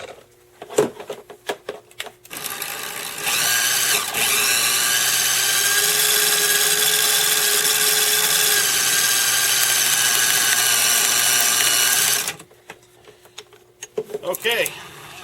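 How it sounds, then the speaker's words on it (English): Fly line wound back onto a fly reel, a steady mechanical whirring that runs continuously for several seconds, fairly loud and close, with brief handling clicks and knocks before and after. "And now we're going to wind this back onto the fly reel."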